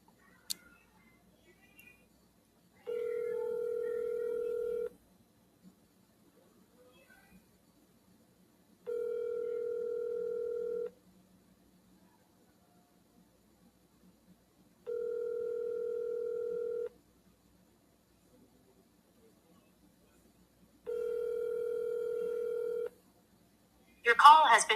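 A telephone call rings out on the line, with four evenly spaced two-second ring tones separated by silence and heard clearly with no talk over them.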